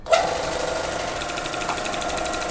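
A Mollar T800 airless paint sprayer switches on with a sharp onset, then holds a steady motor hum with a rapid rhythmic pulsing, alone and close by.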